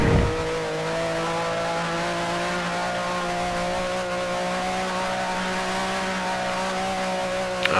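A 1965-era Grand Prix race car in Grand Prix Legends, South African Grand Prix, drones past with a steady, loud engine note and sustained harmonic whine, holding close throughout without any talk.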